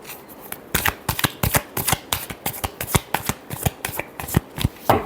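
A deck of tarot cards being shuffled by hand, with quick repeated bursts of crisp, papery card slaps and riffles in an uneven rhythm, close and clear, with no talking.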